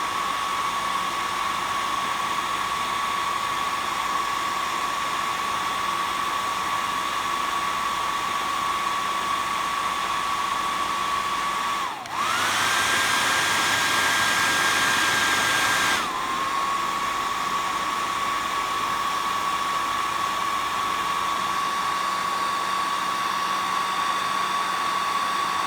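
A hair dryer runs steadily and loudly on a painted paper craft rocket, its whine holding constant for a long stretch, briefly cutting out and shifting to a higher setting for a few seconds, then returning to the original tone.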